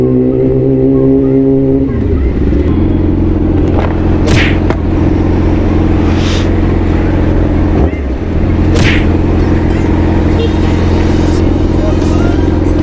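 Motorcycle engine fitted with a new muffler rumbles loud and close, dropping from a higher rev to a deep, steady idle, with a few faint sharper noises over it and some speech.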